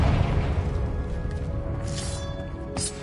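A Confringo blasting spell explodes in Hogwarts Legacy, a deep rumbling boom that fades slowly, followed by a couple of lighter whooshes and a sharp pop near the end.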